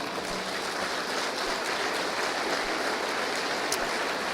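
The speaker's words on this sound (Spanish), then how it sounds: "Dele otro aplauso al Señor." Congregation applauding during a Spanish-language church sermon, a dense, steady wash of clapping that holds evenly throughout without a break.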